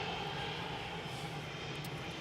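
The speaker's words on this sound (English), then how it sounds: "So we've got a 777 pushing back" A steady, fairly faint drone of an Etihad Boeing 777 pushing back at Manchester Airport, a continuous engine hum with no breaks and no talk.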